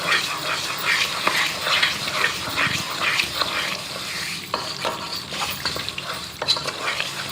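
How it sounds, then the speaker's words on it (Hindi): Sugar and water simmering together in a pot as syrup forms for zarda rice, giving a steady close bubbling sizzle with soft stirring scrapes throughout. "चीनी को इतनी देर पानी में हमने पकाना है कि ये चाशनी बन जाए।"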